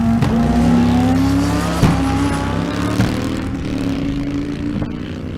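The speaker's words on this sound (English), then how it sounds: "Turbocharged Kawasaki in the 8th at Kearney Raceway Park" Turbocharged Kawasaki drag bike racing at Kearney Raceway Park in Nebraska, its engine screaming loud and close in a sustained high-revving roar, with a few sharp pops and shift breaks along the run.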